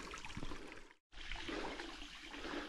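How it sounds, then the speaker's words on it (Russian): A small waterfall on a mountain stream near Gelendzhik, a steady close rush of flowing water with a brief dropout midway, no voices over it. "Тут вон еще один водопадик тире водоскатик, можно сказать так."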